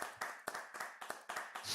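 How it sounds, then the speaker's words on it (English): Scattered hand clapping from an audience applauding speakers at an online talk on immersive technology and AI ethics, a few sharp, uneven claps rather than a full ovation, fairly close and thin. "let's applaud to our speakers first"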